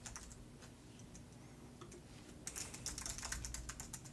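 A username and password typed on a computer keyboard, faint steady key clicks that turn into a quicker, louder run of taps midway, with no talking.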